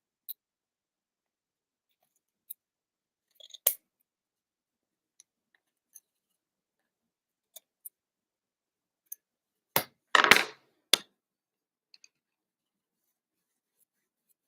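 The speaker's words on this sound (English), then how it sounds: "I am just going to now trim the edges." Scissors snip along the edges of fabric glued over an old light switch plate, giving sparse, close, isolated clicks and cuts separated by silence, with one denser scraping cluster near the end.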